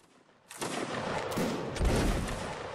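Musket volley from a Mount & Blade: Napoleonic Wars battle, a sudden loud burst of overlapping gunshots that rolls into sustained crackling fire with a heavier boom near the end.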